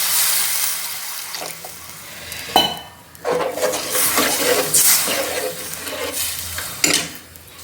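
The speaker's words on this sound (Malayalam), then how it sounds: "ഇനി നമുക്ക് ആവശ്യത്തിനുള്ള വെള്ളം ചേർത്ത് കൊടുക്കാം." Water is poured into a pan of Kerala-style fish curry base with tamarind water, chilli and coriander, splashing and sloshing amid clinks of a pot and utensil, close and fairly loud, with no talking.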